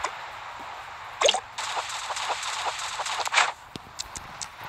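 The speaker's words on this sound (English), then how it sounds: "I like the water sound." Water effects in Animal Crossing Pocket Camp, soft watery drips and splashy sloshes in irregular bursts, with a couple of louder splashes and scattered small plops.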